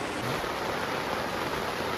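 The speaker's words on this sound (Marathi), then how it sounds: "पाऊस बघा चालूच आहे" Heavy rain pours steadily on a riverside campsite, an unbroken dense hiss that stays loud and even from start to finish.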